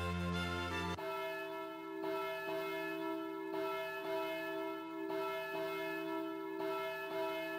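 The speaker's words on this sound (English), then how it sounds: "Congratulations, we tolled the wedding bells." Wedding church bells tolling in Harvest Moon DS Cute: after a brief musical chime, a clear ringing bell tone sustains, struck again at a slow regular pace with long resonant overlapping decays, loud and alone.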